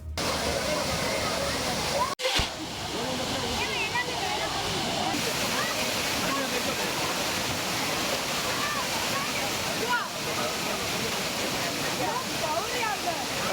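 Agasthiyar waterfall pours in a constant, dense roar up close, with tourists bathing in it; a brief break interrupts the steady rushing early on.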